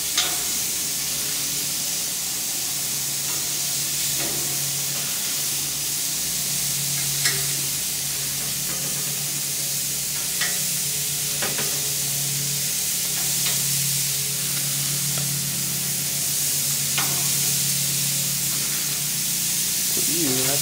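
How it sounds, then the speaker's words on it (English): LA galbi, Korean BBQ beef ribs, sizzling on the hottest part of a grill, a steady hiss and crackle throughout with occasional sharper pops and a low hum underneath. "Basically, I cook them on the hottest part of the grill."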